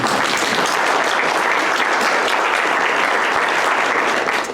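A large audience at a State of the City address bursts into sustained, loud applause, an even roar of many hands clapping that holds steady and fades only at the very end.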